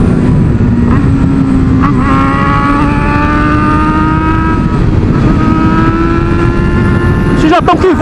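A motorcycle accelerates hard at high speed, its engine whine climbing steadily in pitch through the gears over loud wind roar, with a voice talking over it.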